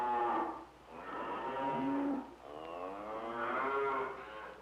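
Cattle low in the cattle yards at a fair, several long, loud, close moos in succession with a steady low hum of the yard behind them.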